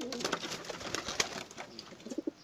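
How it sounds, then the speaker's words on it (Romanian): A family of pigeons coos nearby in a series of soft, throaty calls with faint rustling, and no voices are heard. "Eu am aici o familie de porumbei."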